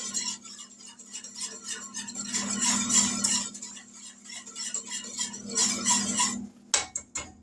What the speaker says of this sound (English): Let me grab a whisk. We're going to give that a bit of a stir.